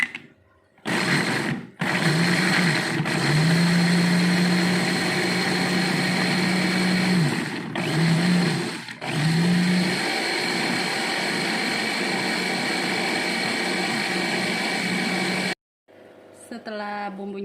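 Electric blender grinding spice paste with a little water, a loud steady motor whine running in several long bursts with brief stops in between, close by, ending with a short stretch of quieter sound.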